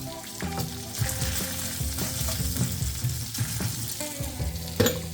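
Bacon sizzles and crackles steadily in a hot frying pan for a French toast B.L.T., a dense, continuous fry with occasional louder pops and light stirring clatter near the end, no talking.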